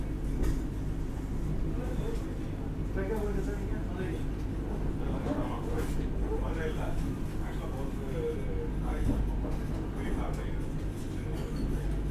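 A Vande Bharat express train from Bengaluru to Madurai rumbles steadily from inside a carriage, a continuous low roar with clatter and people talking nearby.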